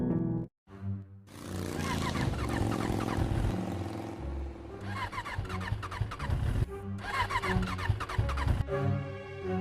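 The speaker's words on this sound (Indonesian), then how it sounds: "Kayaknya motornya mogok deh" A stalled motorcycle engine in an animated school film sputters and tries to turn over in repeated cranking bursts, stopping short after each attempt, fairly loud and close.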